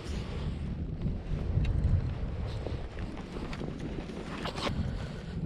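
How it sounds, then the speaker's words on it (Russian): Steady wind buffets the microphone outdoors by the water while carp fishing in mid-October, producing a continuous low rumble and rushing noise, with faint small splashes and knocks mixed in. "Ветер дует."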